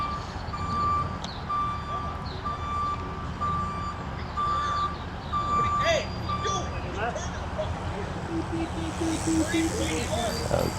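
A budget rental truck backing up sounds a loud, regular series of reversing beeps over a rumbling idling engine and street noise, with people talking nearby.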